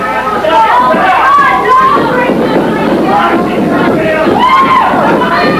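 A wrestling crowd at a women's tag match whoops and gives rising war whoops to cheer on Winona Littleheart, in loud repeated waves of voices with a lively chattering hubbub underneath.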